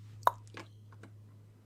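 A person imitates a cork popping with their mouth: one sharp pop near the start, followed by a softer second pop and a faint third click, close and alone over a steady low hum.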